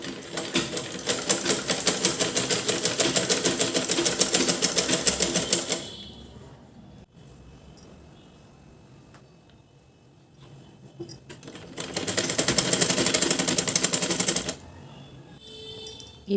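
A sewing machine fitted with a normal presser foot stitches thread piping onto a blouse, running in two steady, fast, rattling bursts separated by a quiet pause.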